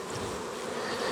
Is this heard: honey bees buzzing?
yes